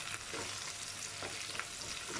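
Kasuri methi fries in a restaurant-style chicken gravy in a pan, making a soft, steady sizzle with light stirring scrapes, quiet and brief.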